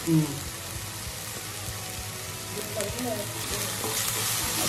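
Paneer and gongura curry frying in a home-kitchen pan, a steady dense sizzle with occasional stirring scrapes, close and continuous, no one talking over it.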